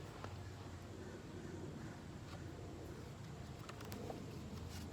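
Pigeons or doves coo softly now and then outdoors, half buried in a steady wash of wind and distant background noise, with no one talking.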